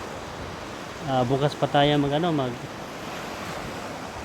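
Waves break on a rough, rising sea at the shore of Barangay Hubilyar, Tarragona, a constant broad wash of surf and wind rumble, with a person briefly speaking over it partway through.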